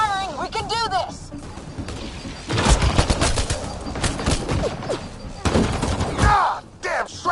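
Bursts of automatic gunfire in Mass Effect Andromeda combat, loud sharp volleys in clusters between shouted voices, with several clear pauses.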